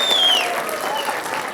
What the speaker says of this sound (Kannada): ಜೋರ್ ಚಪ್ಪಾಳೆ ಬರಬೇಕು ನಮ್ಮ ರಘುಗೋಸ್ಕರ